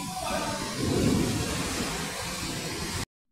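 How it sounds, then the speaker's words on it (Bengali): Heavy monsoon-style downpour, a steady dense hiss of rain falling throughout, fairly soft and distant with a slight low rumble, ending abruptly. "একদম জোরে জোরে বৃষ্টি পড়তে শুরু করে দিয়েছে অলরেডি।"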